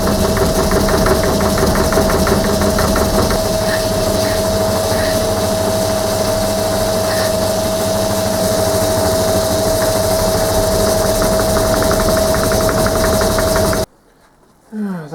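A metal lathe machines a one inch cube, a loud steady whir with a piercing sustained tone and rhythmic chatter, running continuously before cutting off abruptly near the end.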